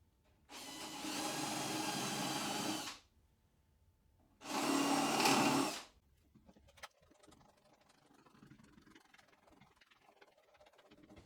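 A power driver runs screws into a steel part of a homemade 12-inch jointer, with two loud, sustained whirring bursts, the first longer, followed by quieter handling noises and no talking.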